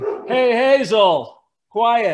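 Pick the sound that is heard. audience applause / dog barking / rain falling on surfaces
dog barking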